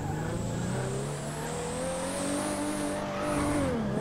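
Toyota Supra in the video game GTA 5 starting up and idling, a steady near engine drone with a rising rev toward the end and a constant high whine, no talk.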